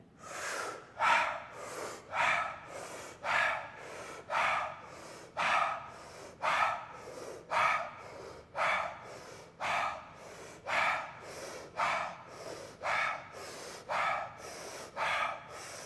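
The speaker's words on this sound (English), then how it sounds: "So in through the mouth, out through the mouth." Deep breaths drawn in and pushed out through the mouth in a steady, even rhythm, about fifteen loud, close breath cycles repeating roughly once per second with no talking.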